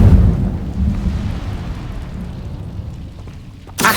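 Incendio fire spell cast in a Hogwarts video game: a deep rumbling whoosh that swells loud at the start and slowly fades, ending with a short bright crackling burst.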